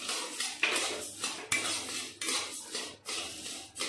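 Sambar masala spices, cumin, rice and dried coconut, are dry roasted in a pan, with repeated metallic scraping and rattling strokes in bursts, close and fairly loud.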